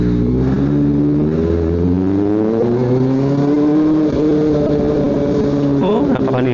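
A Kawasaki ZX-4RR motorcycle pulls away with a loud, raspy exhaust, its engine note rising steadily through the revs close by.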